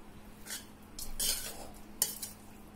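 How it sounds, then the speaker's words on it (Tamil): Lemon rice being stirred gently with a spoon against a pot or dish, giving a few soft scraping strokes and light clinks close by, with no talk. "நல்லா ஜென்டலா மிக்ஸ் பண்ணி விட்டுக்கலாம்"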